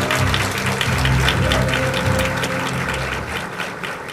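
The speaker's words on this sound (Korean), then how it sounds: "박수로 맞아주시면 감사하겠습니다" An audience at a Seoul city policy briefing applauds to welcome the mayor, a steady wash of clapping lasting several seconds and fading slightly toward the end, with a low hum beneath.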